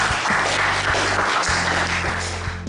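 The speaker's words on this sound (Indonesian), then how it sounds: "Tepuk tangan untuk kelompok 2" A class of high school students claps steadily throughout, dense and fairly loud, fading slightly toward the end, with no talking over it.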